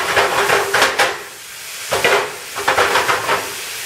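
Vegetables frying in a large pan for German potato salad, giving a loud, close hiss and sizzle that swells in bursts with stirring, dips briefly midway, then surges again.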